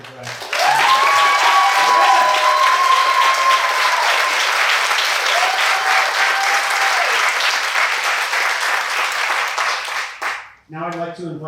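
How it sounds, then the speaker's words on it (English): Sustained, loud applause from a crowd honoring graduates at a leadership program graduation ceremony, steady for about ten seconds before fading out as a voice begins. "just a round of applause for all of the graduates"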